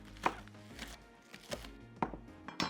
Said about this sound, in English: 3 stalks of green onion sliced medium thin